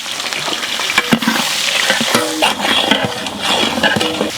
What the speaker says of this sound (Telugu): జంపుగా కోసుకున్న ఎర్రగడ్డలు వేసేద్దామన్నావు.